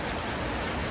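Steady rain falling outdoors, a dense, even hiss of drops with no gaps or changes for about a second.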